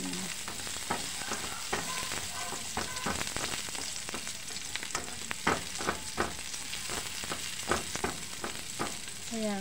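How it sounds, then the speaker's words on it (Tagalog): Onions sauté in a pan toward golden brown with a steady hissing sizzle, and scattered crackles and spatula clicks pop over it throughout at moderate volume. "Sunod na po natin ang sibuyas. Pupula-pulahin lang po natin hanggang mag-golden brown."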